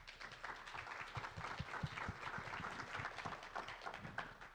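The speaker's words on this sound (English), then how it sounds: "a round of applause for Lisa and Greg." Audience applause at a panel session on AI-driven life science training: a steady, dense patter of clapping hands, moderately quiet and even throughout, with no voices on top.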